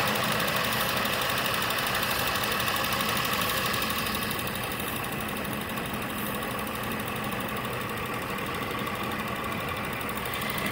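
A car engine idles at operating temperature during a combustion gas leak test, running as a steady, even mechanical hum with a fine rapid ticking throughout, close and unbroken.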